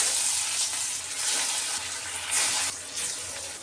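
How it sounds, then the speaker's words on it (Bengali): Silver carp pieces sizzle in hot oil in a kadai, a steady loud frying hiss with bursts of spatter throughout, no voices. "তেল গরম হয়ে গেছে এখন মাছ দিয়ে দিলাম"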